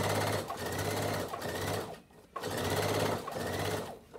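A sewing machine runs in two loud, close bursts of rapid, even stitching along bias binding on a small bib apron, with a short pause between them.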